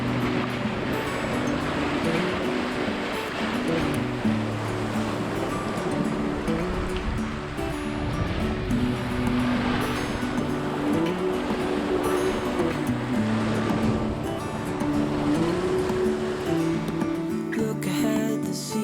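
Open-ocean waves wash steadily around a sailboat nearing Horta at the end of a long Atlantic crossing, a constant close rush of water and hull noise with faint background music.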